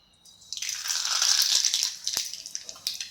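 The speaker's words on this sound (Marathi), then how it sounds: "तर आपण याच्यामध्ये थोडीशी मोहरी टाकणार आहेत" Mustard seeds drop into hot oil in a pan while cooking an okra fry, bursting into a sudden close sizzle with sharp crackles and pops that gradually ease off.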